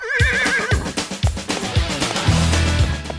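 A horse whinnies loudly and close by, a shrill wavering neigh followed by snorts and thumping movement, with a low rumble near the end.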